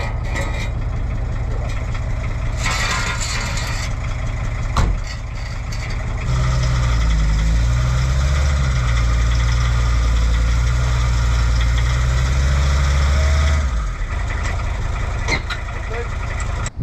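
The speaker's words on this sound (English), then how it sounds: "That was nice and easy to get the T4 up on the ramps." A VW T4 camper van's engine idles, then revs and drives steadily up onto ramps with a loud, low, throbbing drone that holds for several seconds before settling back to a calmer idle.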